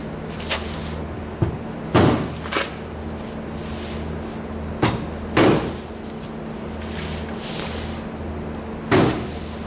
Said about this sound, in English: get yourself a big hammer, feel for the position, and like that